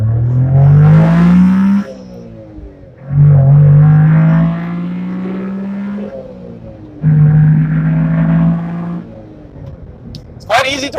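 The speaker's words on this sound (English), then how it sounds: "Quite easy to rev match too when you're downshifting, like a little blip on the throttle." A 1993 Honda Beat Type C engine revs in three rising bursts separated by short pauses, a buzzing climb in pitch with throttle blips, heard close from inside the car.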